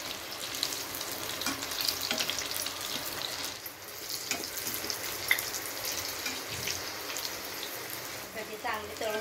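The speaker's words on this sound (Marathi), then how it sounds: "छान तळून घेऊया।" Bhaji fritters fry in hot oil with a steady, dense sizzle and crackle that runs throughout, close by, with faint stirring touches.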